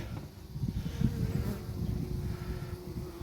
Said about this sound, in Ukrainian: Оси, оси не дають нам спокою. Ну, не нам, а бджолам.